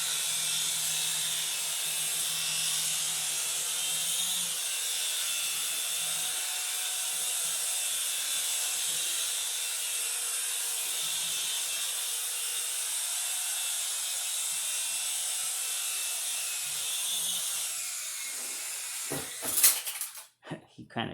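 A cheap Sega-licensed Sonic RC toy helicopter, hand-launched, gives a steady high electric rotor whine that holds level for a long stretch. It ends in a brief burst of clattering knocks.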